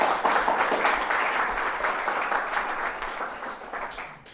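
An audience applauds to welcome a speaker at an institutional event, a dense, steady wash of clapping from many hands that fills the room and gradually fades toward the end.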